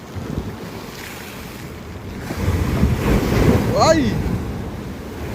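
Ocean waves crash onto the shore at Baler, a loud rolling wash that builds to a heavy surge, mixed with wind buffeting the microphone and a person exclaiming.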